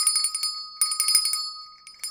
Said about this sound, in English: Aristophan wants me to ring the bell.